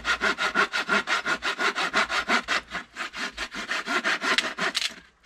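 Hand saw cutting through wood during a cottage renovation, with steady, regular back-and-forth strokes that are close and loud, quickening slightly before the final strokes.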